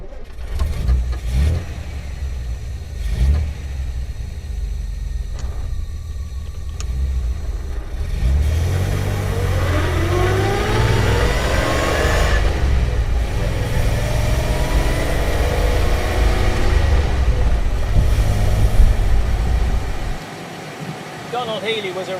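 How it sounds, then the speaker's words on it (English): A 1965 Austin-Healey 3000 classic car engine running while driving, a steady rumble that climbs as the revs rise and then drops off near the end, with a voice talking over it. "today we're driving the Austin-Healey 3000"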